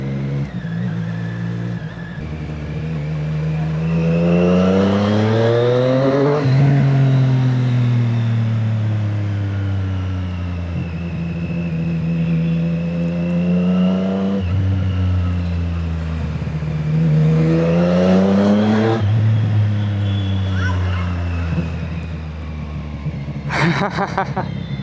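A Triumph Street Triple motorcycle fitted with an SC Project exhaust rides through Hyderabad, its engine note rising loud and close through repeated acceleration sweeps, easing off between them with a steady throaty rumble.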